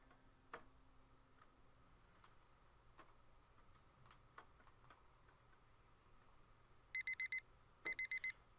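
An alarm clock in the Doki Doki Blue Skies mod ticks faintly and irregularly in a quiet room, then rings in two short rapid-fire bursts of bright electronic beeps near the end.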